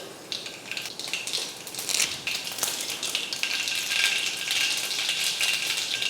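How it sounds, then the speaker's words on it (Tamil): Fenugreek, mustard seeds and urad dal crackle and sizzle in hot oil, a steady bright frying hiss with scattered pops and spits running throughout, close and moderately loud with no talking. "எண்ணெய் காஞ்சதுமே கொஞ்சம் வெந்தயம், கம்மியாக போட்டுக்கோங்க வெந்தயம், கொஞ்சமாக கடுகு உளுந்து"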